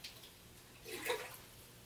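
Aquarium water drains away during a water change, a soft, brief gurgling splash that swells in the middle and fades, with no talking.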